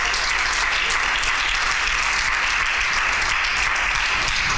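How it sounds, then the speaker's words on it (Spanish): Loud, sustained applause fills a church service as the congregation claps for the Lord, a thick continuous roar of many hands without pause. "Dele un aplauso fuerte al Señor."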